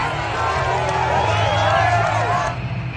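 A football stadium home crowd cheers and roars in a steady, dense wash of voices, swelling slightly midway before easing near the end, with whoops and babble throughout.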